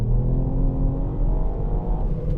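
A Ford Fiesta ST Mk8's 1.5-litre three-cylinder engine hums at a steady, fairly low rumble, heard alone and close for a couple of seconds.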